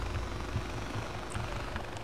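Helicopter in the video game Far Cry 4, a continuous low rotor thump and engine drone holding steady at close range, with no talking over it.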